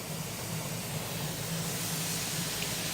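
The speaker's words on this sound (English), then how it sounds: "And you see the steam rising out of it?" Steady hiss of steam venting from a pressure canner during home canning of ground meat, a continuous broadband rush holding at an even level throughout with no talking.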